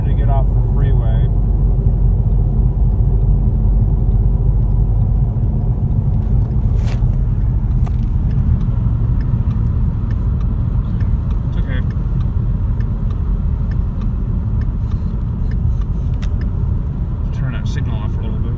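Inside a 2.3 EcoBoost Mustang on the freeway, a constant low rumble of tire and road noise fills the cabin, with faint clicks and bumps.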